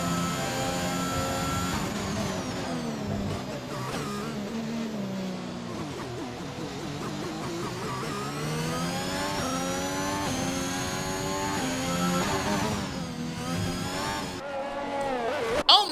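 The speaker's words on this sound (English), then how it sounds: "On board with HSR Meatbury as he begins his flying lap in the Alpine." An Alpine Formula One car in a racing game screams through a flying lap at the Canada Grand Prix, its engine loud and close, pitch climbing and falling through upshifts and braking, with no voices.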